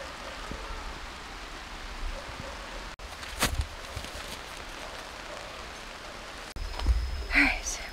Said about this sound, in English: All right, while I take a break from the rain